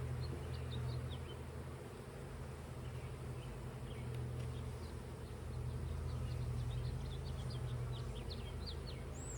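Honeybees buzz steadily and densely close by during a hive inspection while a split is made to prevent swarming, a continuous low drone with a few faint bird chirps in the background.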